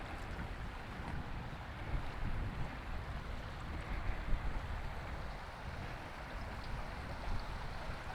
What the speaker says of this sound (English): Hopefully you can hear the water flowing.